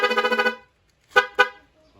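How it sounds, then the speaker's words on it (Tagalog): A motorcycle's aftermarket rapid horn, wired to an on/off switch, sounds a fast warbling burst of about six pulses, then two short separate toots, loud and close with silence between. "meron din siyang rapid horn"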